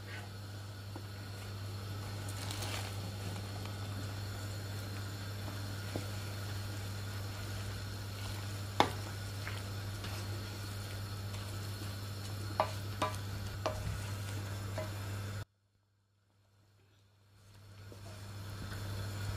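Long beans are stirred into a simmering curry in a pot, with a steady bubbling sizzle, occasional soft spoon knocks and a low hum, then a brief drop to near silence.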